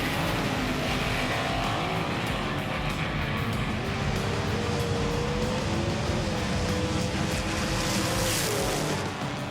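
A Holden race car charging around Mount Western Raceway, its engine roaring loud and sustained with rising pitch as it accelerates, a dense mechanical drone with tyre noise and no voices.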